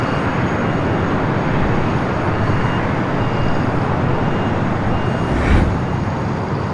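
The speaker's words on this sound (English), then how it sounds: "A converted 767 going to be taken off here on the south side." A converted Boeing 767 takes off from the south side of LAX, a loud, continuous engine roar that stays steady and near, swelling briefly toward the end.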